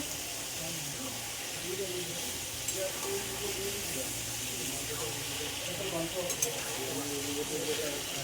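Dry chili powder sizzles in a frying pan while cooking ridge gourd with poppy seed paste, giving a steady, close broadband hiss that runs throughout with small crackles and a low background murmur.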